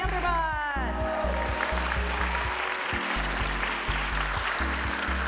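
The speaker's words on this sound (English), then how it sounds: "One more round of applause for our Panther bots." Applause from an audience at a junior robotics competition honoring the Panther bots team, steady and dense clapping with a low rhythmic tone running underneath throughout.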